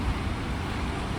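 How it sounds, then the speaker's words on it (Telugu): A bus passes in city street traffic in Hungary, a steady close low rumble of engine and road noise with no talking. "అది బస్సు."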